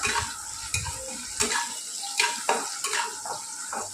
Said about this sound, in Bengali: এর মধ্যে রসুন একটু ফোড়ন দেবো